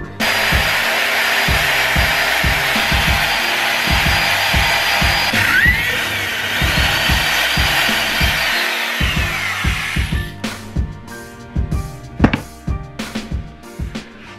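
A power drill whines steadily while boring holes through brackets mounted on wood, its motor pitch dipping and rising under load amid repeated knocks and clatter, then stopping and giving way to sharp tapping and handling noises.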